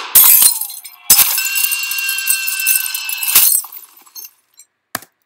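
A car's back windshield smashes loudly, followed by a ringing, tinkling scatter of shards and a few small clinks fading into near silence.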